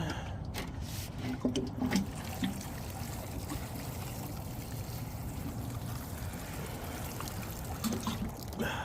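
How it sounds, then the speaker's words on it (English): Water trickles and splashes softly onto soil around banana plants, a steady close pouring sound with faint background noise. "water it in."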